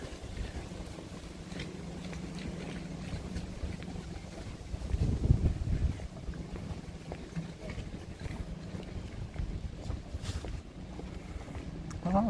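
Strong wind buffets the microphone during a street walk in Japan between Fujisawa and Enoshima, a steady low roar with a heavier gust midway, faint street sounds beneath.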